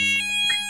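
A fire alarm sounds inside an Asda store: a short, steady electronic tone, loud and unbroken.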